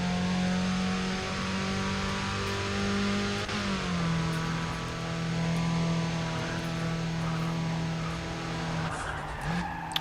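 A Nissan 350Z engine in NFS ProStreet holds a steady high drone at sustained revs, with the pitch dipping and rising through gear changes and faint tire skids, loud and close throughout with no talking.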